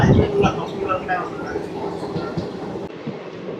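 The 17479 Puri Tirupati Express runs into Anaparthi railway station with a steady rolling rumble and faint wheel clatter that ease off toward the end. Someone talks over the train noise.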